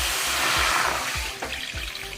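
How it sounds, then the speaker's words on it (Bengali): Water pours into a kadai cooking pan on a home kitchen stove, a short splashing, gurgling stream heard up close with a low pulsing rumble underneath. "এবার আমি জল দিয়ে দিই কড়াতে।"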